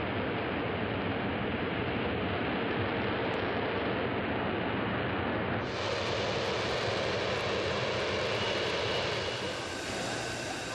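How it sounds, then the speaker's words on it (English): An F-35 Lightning II jet hovering nearby with downward-pointed swiveling ducts produces a constant, loud roaring rush of engine noise that grows brighter and harsher partway through, with no voices. "the F-35 has swiveling ducts which are pointed downwards when the plane is hovering"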